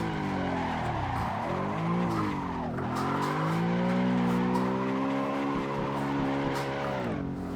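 A BMW E92 or Supra drifting in Assetto Corsa, the engine bouncing off the rev limiter in a loud sustained stuttering whine, with pitch dips at each shift and tire squeal underneath.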